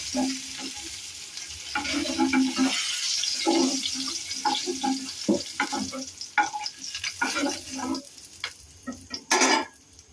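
Paneer cubes frying and sizzling in oil in a home kitchen, a steady crackle broken by spatula scrapes and clinks, with a louder burst of sizzle near the end and no talking.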